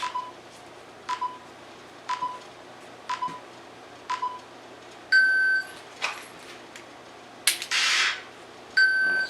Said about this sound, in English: It's going to count down. It's going to beep.